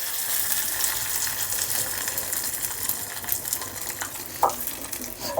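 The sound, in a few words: tomato chutney frying in pan with curry leaves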